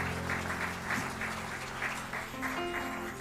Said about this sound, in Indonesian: Berikan tepuk tangan dulu buat Tuhan, boleh?